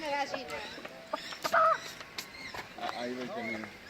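A voice gives a short, high chirping whistle imitating a bird, close by, amid lively chatter from several people.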